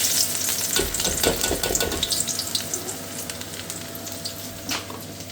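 Chili and garlic are tipped into hot oil for Manchurian gravy, producing a loud, close sizzle and crackle that flares with bursts of spattering early on, then settles into a steadier frying hiss.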